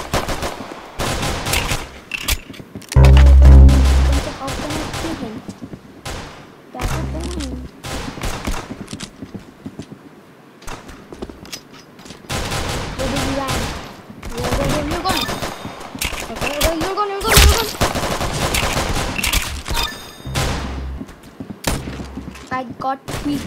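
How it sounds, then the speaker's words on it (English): Pistol gunfire in the Roblox game Arsenal comes as loud sharp bursts of shots and thumps scattered through the stretch, mixed with game effects and a player talking over it. "I got 3 kills and I'm using a pistol."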